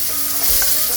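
Onion frying in hot oil in a pan, a steady close sizzle with a brief stirring scrape partway through.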